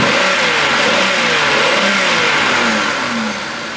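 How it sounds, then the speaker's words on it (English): A car engine with its oxygen sensor unplugged revs up steadily under acceleration, its loud rising and falling drone filling the whole stretch with no speech. "with the oxygen sensor unplugged, we can accelerate the engine"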